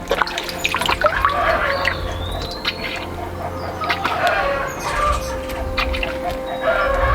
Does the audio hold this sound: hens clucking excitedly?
yes